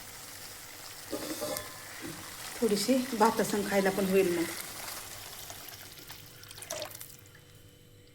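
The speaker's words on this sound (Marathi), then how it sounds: "आता मी पाणी टाकते ह्याच्यात" Water is poured into a hot pan of frying kidney beans (rajma) for a spicy Maharashtrian curry, giving a burst of sizzling and bubbling that swells mid-clip and fades, with someone talking over it.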